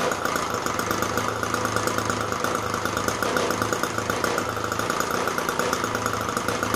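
An older SuperTigre 90 model aircraft engine running on petrol idles steadily at about 1600 rpm, a loud, continuous buzzing drone with a fast regular pulse and no talk over it.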